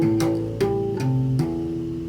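Tapped arpeggio of chord tones, including a minor third and its lower octave, played on an electric bass strung with cello strings: four distinct tapped notes that ring and sustain, close and clear, with no talking.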